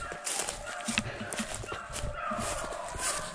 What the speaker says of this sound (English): Dogs are all fired up down here and trying to get in front of them.